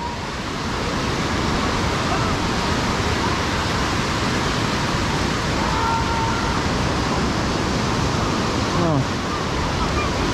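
Surf washes steadily onto Jones Beach in New York on a hot summer day, a constant broadband roar of waves with no clear breaks, loud and close, while voices of beachgoers occasionally surface under it.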